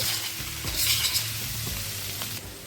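A spoon stirs paneer around a hot pan for fried rice, with rhythmic scraping strokes over a continuous sizzle, close and clear, no voices.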